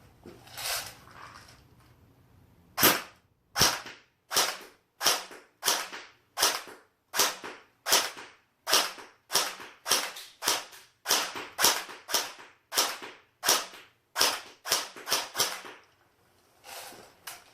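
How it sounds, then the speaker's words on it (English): Around twenty sharp semi-automatic shots from an Echo 1 SOCOM 16 airsoft rifle, fired one at a time at a steady, slightly uneven pace, close and crisp, with no talking. "I just want you to hear the sound of the gun moderately close up."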